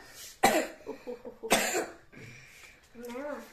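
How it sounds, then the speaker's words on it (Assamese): A boy coughs two sharp, harsh times about a second apart, each followed by smaller rasping catches, with a voice talking nearby between the coughs. "আমাৰ আকৌ ল'ৰা বহুত কাহ হৈ আছে দেই এইকেইদিন"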